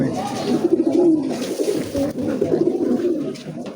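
Pigeons at a pigeon shop, including golden-eyed Raj Golla birds, coo steadily and close by in a continuous, layered rolling murmur, with faint voices in the background.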